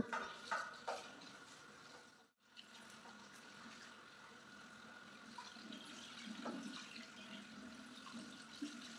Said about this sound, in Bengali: এগুলোকে ফার্স্টে আমি এখন জল দিয়ে পরিষ্কার করে ধুয়ে নেব।